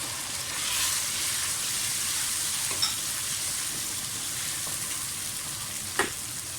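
Ginger garlic paste and whole spices sizzle in a hot pan of frying qeema, a steady close hiss with stirring scrapes and a couple of sharper spatula clinks, no talking.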